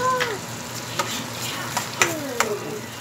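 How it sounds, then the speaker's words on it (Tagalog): Chicken and garlic fry in butter with a steady crackling sizzle, punctuated by a few sharp utensil clicks against the pan, close and moderately loud. "Ma-fry siya using butter."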